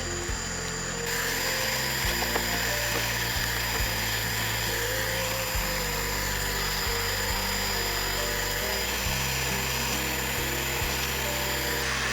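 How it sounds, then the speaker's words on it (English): An angle grinder strips rust from thin sheet steel on a Daewoo Cielo's front fender, a steady loud whine running continuously with slight shifts in pitch as the tool keeps moving. "A grinder exposes clean metal around the worst corrosion."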